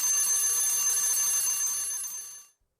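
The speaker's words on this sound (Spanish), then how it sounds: "Suena el despertador" An alarm clock rings continuously with a bright, metallic bell tone, loud and steady, then cuts off abruptly into silence.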